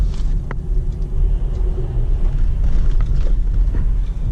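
A car passes on a road outside the small coastal town of Milbridge, Maine, as a steady low rumble of tyres and engine that holds fairly constant and close throughout, with faint higher clicks and knocks above it.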